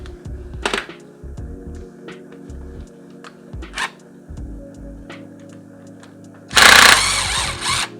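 A power drill works bolts out of a Chevrolet Lumina engine during disassembly, with short repeated whirring bursts, clunks of metal parts and a loud, harsh burst of drilling near the end.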